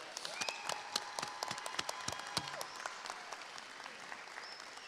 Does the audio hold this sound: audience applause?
yes